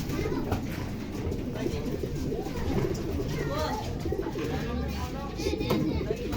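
Pigeons coo in a large loft housing Taiwan-bred racing birds, soft low murmuring calls blending into a steady ambient bed of flock noise throughout.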